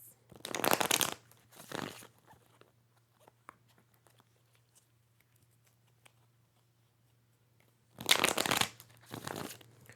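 Tarot cards riffle-shuffled in two quick bursts, then a long quiet stretch with faint handling noises, followed by two more crisp shuffles.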